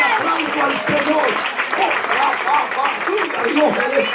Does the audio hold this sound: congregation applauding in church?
yes